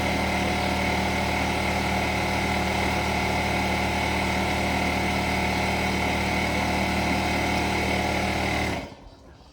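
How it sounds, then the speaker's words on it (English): An air compressor runs in a workshop, a loud, steady droning hum with a fixed tone that carries on unbroken, then cuts off abruptly near the end, no voices. "Sorry about the compressor."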